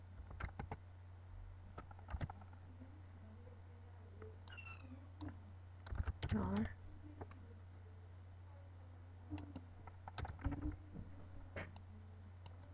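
Computer keyboard typing during a programming lesson on declaring variables: scattered sharp key clicks in short bursts with pauses between, close by over a low steady hum.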